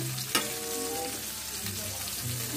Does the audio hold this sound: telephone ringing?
no